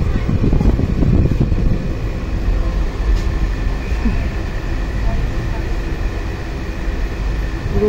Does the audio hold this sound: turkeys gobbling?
no